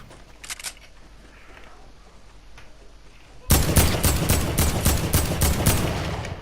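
Video game gunfire erupts close by after a quiet stretch: a loud, rapid string of regular shots that keeps going to the end.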